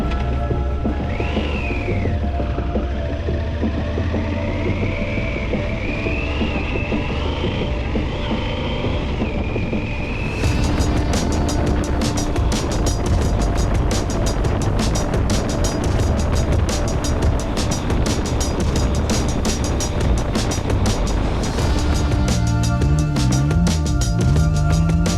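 Steady, loud motorcycle riding on the road on a Yamaha during a West Coast trip near Portland, continuous engine drone with rising and falling pitch changes, broadband wind rush growing heavier after about ten seconds, no talk.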